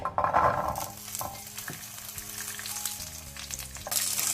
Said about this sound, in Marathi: त्यात कायलीक इल्लें तेल घालून आमी ते क्रॅनबेरीज या करंटां भाजचीं